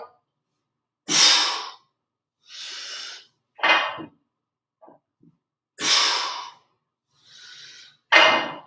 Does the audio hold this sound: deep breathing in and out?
yes